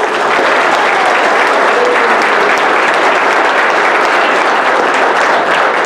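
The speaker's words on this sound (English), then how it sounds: "Let's give them one more round of applause." Sustained, loud applause from a school concert audience after a 7th grade orchestra performance, many hands clapping in a thick, even roar that holds steady throughout without any talk.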